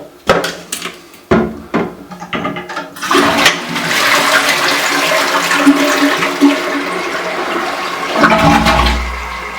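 An old toilet flushes with a loud rushing gush, then water keeps running steadily as the tank refills, ending with a low hiss of inflow.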